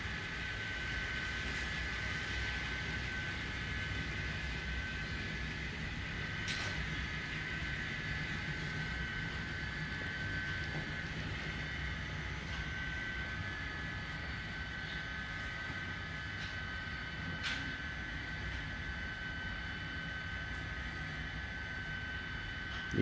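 A Canadian Pacific N scale model coal train, pulled by two locomotives, runs on a club layout with a steady whirring rumble, loud and continuous and unbroken for the whole stretch.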